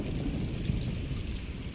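Steady rain falls in the video game Stray, a soft, even hiss of drops on surfaces that holds constant throughout, fairly faint and with no talking.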